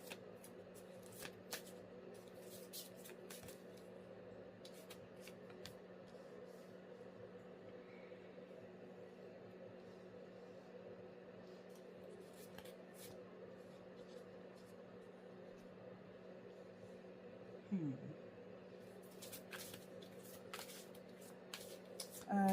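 Tarot cards handled and shuffled in soft, repeated riffles and flicks, heard faintly over a steady low background hum.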